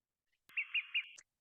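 Three quick, sharp olive-sided flycatcher pip calls in a rapid even series, crisp and close, followed by a brief click.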